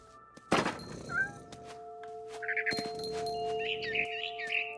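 A cat meows in the video game What Remains of Edith Finch, with a sharp thump early on, then high, wavering mewing calls that rise and fall over a steady tonal hum from the game's ambience.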